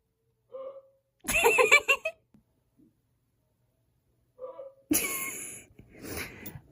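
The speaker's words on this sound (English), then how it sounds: "Got the hiccups there" A dog's hiccups heard faintly through a house vent, a few short soft hics spaced apart with quiet gaps and a louder burst of noise between them.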